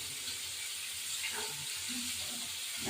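Bori, small sun-dried lentil dumplings, fry in a pan of hot oil while a cauliflower and tengra fish curry is being cooked, giving a steady, close sizzle with soft stirring scrapes and no talking.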